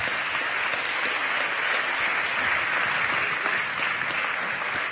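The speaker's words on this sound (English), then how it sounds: "I guess they deserve some applause." Steady applause from a conference audience at a television industry forum fills the whole stretch, dense and even with no voices over it.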